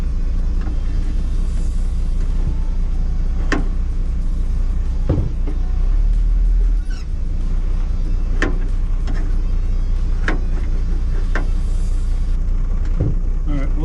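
A 1969 Chevy Van with old-style brakes drives along, a steady loud engine rumble heard from inside the cabin with occasional clunks and rattles throughout.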